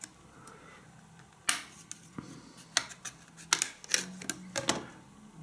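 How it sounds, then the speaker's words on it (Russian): Back cover of a Leagoo Alfa 2 smartphone pried off by hand: sharp plastic clicks and snaps in irregular bursts, close and fairly quiet, over a faint background hum. "Так, давайте откроем. Задняя крышка съемная."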